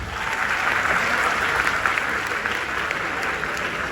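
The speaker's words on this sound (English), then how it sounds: "Please give them a round of applause." Steady, dense applause from a forum audience in Malaysia fills the hall, a continuous wash of many hands clapping at even strength throughout, with no voices on top.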